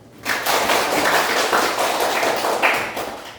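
Classroom students clap their hands together in a dense, sustained burst of applause lasting a few seconds, loud and close, starting abruptly and fading at the end.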